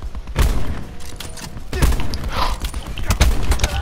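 Gunfire in the first-person shooter Black Ops 4: bursts of shots and impacts come in clusters, with a player talking over the action.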